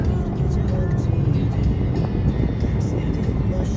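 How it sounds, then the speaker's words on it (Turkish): Steady low road rumble of heavy highway traffic heard from inside a car on a crowded motorway, a continuous broadband drone with passing vehicle swells and no talk. "Burası otoban. Otobana bindik çok kalabalık her yere."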